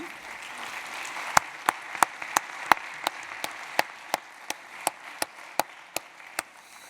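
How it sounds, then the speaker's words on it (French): Audience applause at a conference plenary session, a steady wash of clapping with a few sharp, close individual claps standing out in an even rhythm for about seven seconds. "je vous propose d'applaudir"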